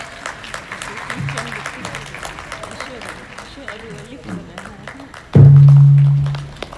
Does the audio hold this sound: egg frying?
no